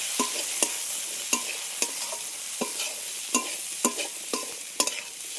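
Potatoes, chopped ginger and spices frying for Bengali ghugni, a steady close sizzle broken by regular scraping knocks of a spatula stirring the pan, with no talk.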